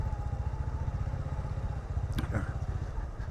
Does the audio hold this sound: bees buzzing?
no